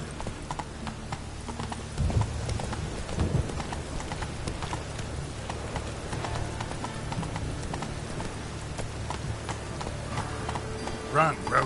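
Roach the horse galloping in The Witcher 3, steady clip-clopping hooves running throughout at a moderate level, with a voice speaking briefly over the hoofbeats and game ambience.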